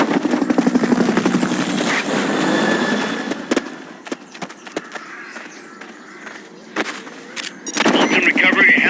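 A helicopter in Metal Gear Solid: Peace Walker whirs loudly with thumping rotor noise for several seconds, then fades under bursts of gunfire and sharp game effects before the rotor din swells again.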